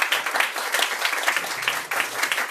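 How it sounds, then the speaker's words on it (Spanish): An audience at a talk on social service abroad applauds a speaker being introduced, a dense, steady burst of many hands clapping at moderate loudness, with a brief dip midway before resuming. "Un aplauso para él, por favor."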